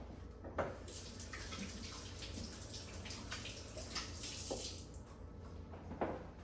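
A hand being wet under running water before shaping cinnamon raisin sourdough, a steady close tap-like wash with a few brief splashy accents, no talking.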